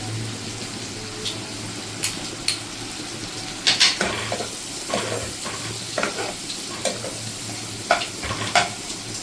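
Garlic frying in a pan with a constant low sizzle, cut by sharp intermittent clinks and scrapes of a utensil against the metal, close and steady.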